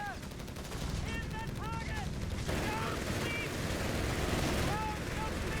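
Rapid machine gun fire from .30 cal and MG42 guns in a combat video game, dense bursts rattling fast and steadily throughout, joined by whistling and ricochet effects, with a voice commenting over it.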